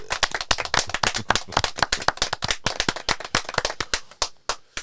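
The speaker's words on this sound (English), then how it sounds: "let's give my brother One a round of applause" A small group claps for a podcast guest, sharp individual claps in an uneven, loose rhythm, close and loud, thinning out toward the end.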